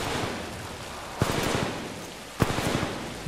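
Gunfire in the PS4 shooter Titanfall 2: two sharp bursts of rapid shots about a second apart, each followed by rattling echoes, over a steady roaring game background with no talk.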